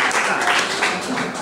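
At a Marche regional cat-welfare convention in Ancona, an audience claps for a woman named Marisa: a brief, steady wash of hands clapping together, continuous and moderately loud throughout.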